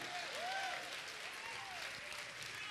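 A church congregation claps in a quiet, steady patter, with a few voices calling out over it.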